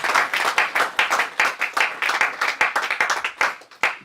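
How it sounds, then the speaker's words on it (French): A church congregation claps together in quick, uneven bursts of applause, the sharp hand claps densely overlapping and close by. "Mais donnez une acclamation pour le Seigneur."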